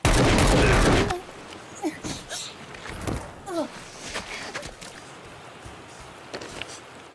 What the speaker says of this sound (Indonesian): Di sini mereka terlihat baku tembak sampai anak kecil ini lari bersembunyi.